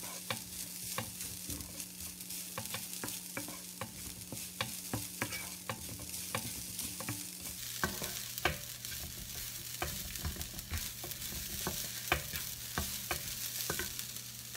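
Mixed vegetables sauté in a pan for a quick Kerala thoran. A constant soft sizzle runs under a rhythm of spatula scrapes and taps against the pan, with no voices.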